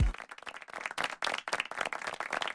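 An audience claps and applauds to welcome Lamar Brace, a lively burst of crowd clapping that stays steady and fairly close throughout.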